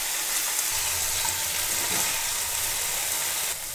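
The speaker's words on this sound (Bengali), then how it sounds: "এবার ম্যারিনেট করে রাখা পনিরগুলোকে ঘিয়ের মধ্যে দিয়ে হালকা হাতে একটু নাড়াচাড়া করে ভেজে নেব" Marinated paneer pieces frying in ghee in a wok, a steady close sizzle with soft stirring scrapes throughout, no talk, easing slightly at the very end.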